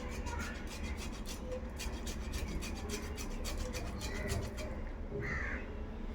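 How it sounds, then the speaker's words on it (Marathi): A boiled potato is grated on a fine kitchen grater, a steady quiet rasping in rapid repeated strokes with no talking. "तो आपण याच्यावर छान अशा बारीक किसणीने किसून घेणार आहे"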